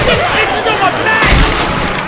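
Heavy Syphon Filter weapon gunfire rattles through a Left 4 Dead 2 match in loud, dense bursts of shots and booms, with shouted voices mixed in.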